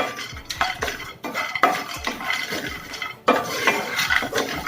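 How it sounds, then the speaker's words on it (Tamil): Cashews roasting in a pan, stirred with a metal utensil, give repeated close scraping and clinking strokes over a soft background sizzle. "முந்திரி நல்லா வறுத்துக்கலாம்."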